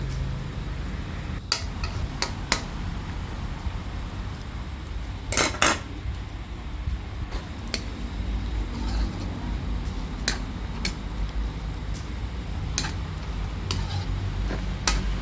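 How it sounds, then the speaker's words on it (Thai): Chicken curry with young chilies and red chilies stir-frying in a pan, with scattered metallic clinks and scrapes of a utensil against the pan over a steady low sizzle and background hum, no talking. "แล้วเราก็ผัดต่อไปนะคะ"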